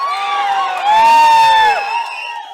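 A crowd at a Tamil film teaser and audio launch event cheers loudly, with high whoops and shouts swelling in the middle and then easing off, and clapping barely audible beneath them.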